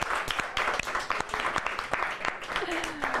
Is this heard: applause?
yes